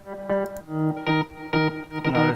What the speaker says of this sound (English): guitar bass.